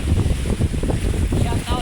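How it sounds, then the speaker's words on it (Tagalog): Strong wind blows over choppy sea, buffeting the microphone in a loud, continuous roar with gusty swells throughout. "sobrang lakas ng hangin natin umiihip dito"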